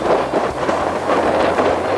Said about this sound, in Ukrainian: Вітер фігарить, аж руки замерзає.